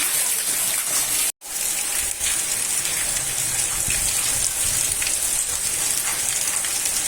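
Monsoon rain pours down steadily in a dense, hissing wash over a graveyard, close and loud, with a brief dropout near the start.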